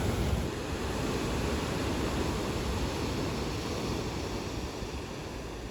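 Ocean waves in Hualien, Taiwan: a dense, steady roar of surf with wind noise, constant and fairly loud with no distinct breaks and no voices.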